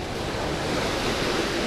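Sea waves wash onto the shore at a Crimean seaside resort in Alushta, a continuous broad rushing surf with wind, steady and fairly loud, with no voices.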